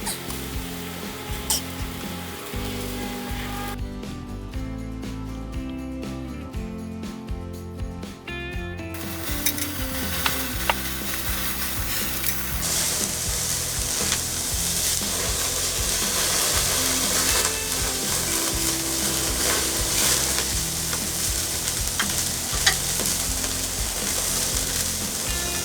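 Bratwurst sizzling on a small barbecue grill while cruising: a close, continuous crackling sizzle with busy popping and scraping, louder and denser in the second half, with no talking.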